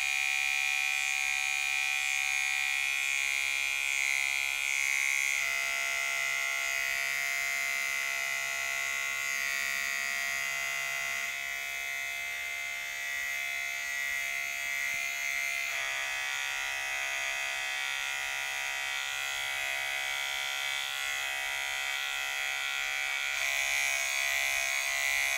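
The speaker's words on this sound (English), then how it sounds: "I'm gonna go in with the half guard open, right? I'm gonna soften up this guideline here." Electric hair clippers with a half guard, open lever, cutting hair during a self-haircut, a close, constant high-pitched buzzing drone that holds steady throughout with slight shifts in tone.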